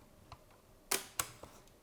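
A Godox Lux Senior camera shutter fires with two crisp, close mechanical snaps in quick succession, followed by a softer click, all in a quiet room.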